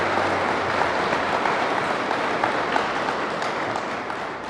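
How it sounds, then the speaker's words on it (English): An audience at a birthday celebration breaks into sustained applause, a dense wash of many hands clapping that holds steady throughout. "Can we please have a round of applause?"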